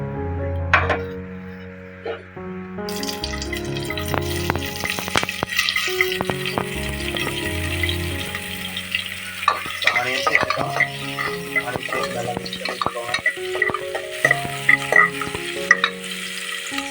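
Cinnamon, cloves, cardamom and onion fry for ghee rice, crackling and sizzling loudly up close with frequent stirring clinks, while melodic background music plays throughout.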